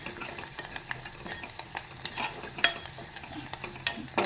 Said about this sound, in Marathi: छान अशी कोथिंबीर, हळद, कांदा, आलं लसणाची पेस्ट परतवून घेतली आहे.